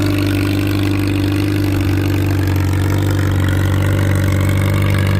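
Old tractor engine working a plow at an antique steam and gas engine plow day, running loud and near with a constant deep rumbling beat and slight shifts in pitch, no voices over it.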